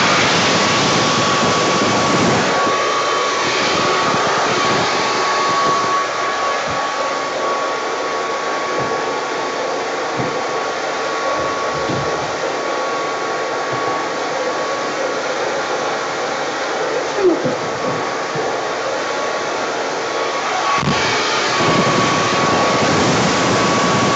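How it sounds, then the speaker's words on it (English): A big blower roars steadily and loudly for the whole stretch while drying a wildflower pour painting, a constant close whoosh with a faint steady tone, and no talk. "I'm going to use the big blower,"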